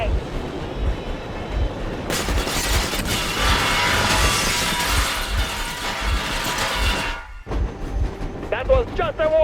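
A train engine runs in the video game Metro Exodus, a dense rumbling, clattering mechanical roar that swells and then cuts off abruptly, followed by brief quieter sounds and a voice.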